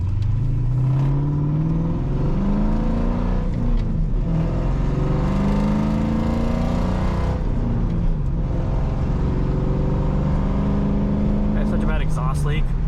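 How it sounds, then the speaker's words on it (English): A supercharged car engine with a bad exhaust leak runs loudly and steadily with a raspy, rumbling drone that swells and drops, while a voice talks over it. "Such a bad exhaust leak."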